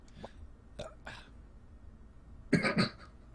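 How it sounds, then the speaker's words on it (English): A loud, brief voiced burp lands near the end, dense and rough, after a few faint scattered vocal sounds from people chatting casually during a podcast recording. "Burp."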